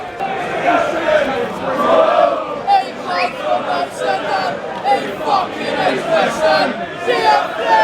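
A football crowd at a Millwall home cup match against Reading roars and chants as a throw-in is taken, a dense wall of many voices rising and falling in waves.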